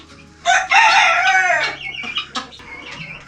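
Tomaru long-crower chickens in a pen: one rooster lets out a loud, close, drawn-out crow, followed by softer clucks and short calls.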